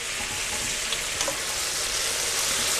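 Steaks and meatballs fry in margarine in a pan over full heat, giving a steady, dense, close-up sizzle that holds at an even loudness throughout, with no one talking.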